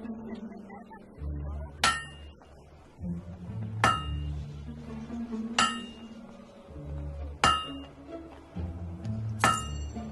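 Blacksmith hammering at an anvil in the video game Fable 2, five sharp ringing metallic strikes spaced about two seconds apart over low game music and ambience.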